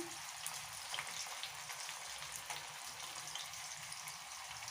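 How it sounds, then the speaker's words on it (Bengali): French fries frying in hot oil, a steady close sizzle with fine crackling and small pops throughout, no voices. "এটা ফ্রেঞ্চ ফ্রাই বানাচ্ছি"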